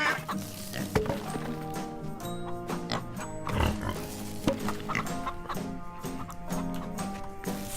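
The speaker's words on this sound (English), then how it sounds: "Hang on, I've got to go and feed my pigs." Pigs grunt and oink repeatedly on a farm in the video game Farm Together, over a continuous bed of game music.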